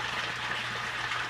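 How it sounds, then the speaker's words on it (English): Water flows steadily through an auto bell siphon in an IBC aquaponic system inside a greenhouse, a continuous gushing, splashing rush with a low hum underneath, fairly close and unbroken. "is auto siphoning now. You can see it flowing now."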